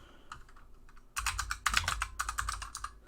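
Rapid typing on a computer keyboard, a few scattered taps followed by a dense, loud burst of clicking keystrokes for about two seconds, with no talk.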